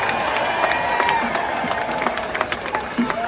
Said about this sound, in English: Let's just give Frankie and the band a hell of a round of applause.